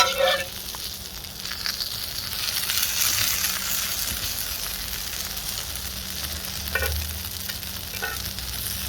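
Spam sizzling and frying steadily in a pan over an open campfire for a grid-down breakfast, a continuous hot crackle with a few louder stirring scrapes, close by and alone without talk.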